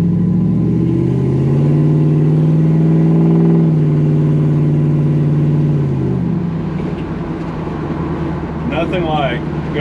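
A budget Ford F100 pickup with a Crown Vic swap cruises down the road, its engine droning steadily and then easing off, heard from inside the cab with someone talking over it.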